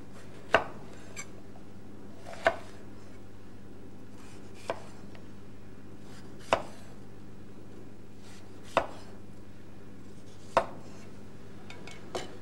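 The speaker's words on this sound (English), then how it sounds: "Cut the side off a red pepper." A knife slices the side off a red pepper on a cutting board: about seven crisp, evenly spaced knocks roughly two seconds apart over a steady low hum, with no talking.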